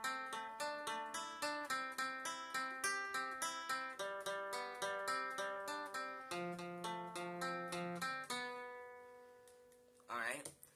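A guitar plays a tune, quick repeated plucked notes in a driving rhythm, then a held lower note and a slide that fades out, heard alone and close.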